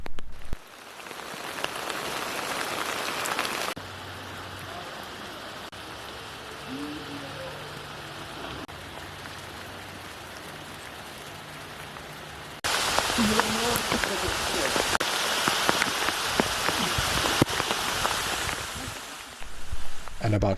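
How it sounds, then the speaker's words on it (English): Heavy rain pours down on a hiking trail in the Tsitsikamma forest, a dense steady hiss that eases to a softer patter midway, then returns loud and full for the remaining stretch. "it started raining"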